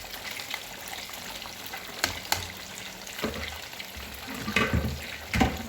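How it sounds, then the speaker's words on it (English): Nigerian stew bubbles and sizzles gently over low heat, a soft frying hiss with scattered sharper pops and occasional light clatters, close and fairly quiet, no talk. "Allow it to boil for some minutes on the low heat."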